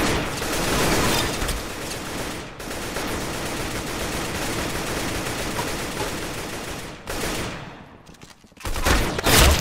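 Sustained automatic gunfire in the Roblox Arsenal first-person shooter, a dense continuous rattle of shots lasting several seconds, breaking off briefly before another loud burst, close and loud with no talking.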